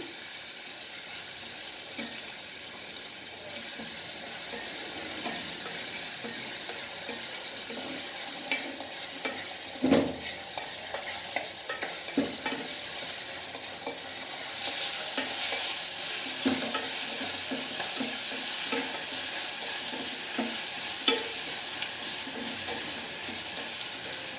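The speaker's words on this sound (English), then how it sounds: "Then I will add my onion. Fry the onion." Onion fries for a Goan-style pulao in a pressure cooker, stirred all the while, making a steady close sizzle broken by repeated scraping and clinking of the spoon, with one louder knock partway through.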